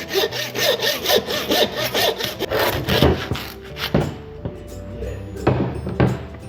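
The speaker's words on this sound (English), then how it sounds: "Then just with your bandsaw, it's just a matter of just cutting through." A bandsaw cuts through the legs of a whole lamb carcass, giving rhythmic rasping strokes up close that ease off partway, followed by a few clunks and a final burst of cutting.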